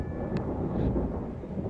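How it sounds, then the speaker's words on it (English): Thunder rumbles low and continuous during rainfall in Cape Town, a single rolling peal with no talking. "You might hear the thunder just now."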